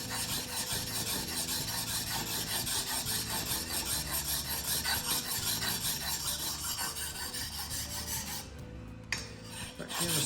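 A knife blade drawn steadily across a waterstone makes a continuous, rhythmic rasp of close, even strokes. It stays fairly loud and unbroken for most of the stretch, with no voices.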